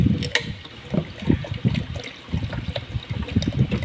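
Tap water runs into a pot being filled for a tamarind herbal drink, a steady splashing, gurgling stream with uneven bursts, close by and with no talking.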